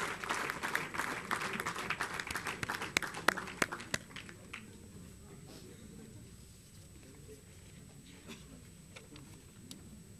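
An audience at a national technology innovation awards ceremony in petrochemicals and plastics breaks into loud, dense applause that thins out after a few seconds into scattered claps and room noise.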